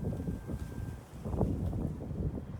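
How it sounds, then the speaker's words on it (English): Steady wind rushing and buffeting against a microphone outdoors in warm sunlight, a continuous low rumble with gusts swelling and easing, no voices. "we get a little shake in there because it's so windy here"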